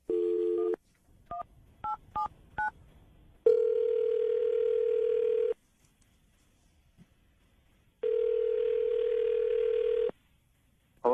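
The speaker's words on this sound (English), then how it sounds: "I'm going to dial his phone number right now" A telephone dial tone sounds, then a quick run of touch-tone keypad beeps dials a number, followed by long steady ringback tones separated by silence, clear and close.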